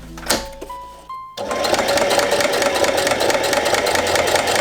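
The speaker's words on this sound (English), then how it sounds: "Playing around with a sewing machine with a project deadline that's coming up very soon" A few clicks and short tones give way to a sewing machine running steadily as it stitches a leather dog grooming apron, a close, loud, fast mechanical rattle that holds an even rhythm for several seconds.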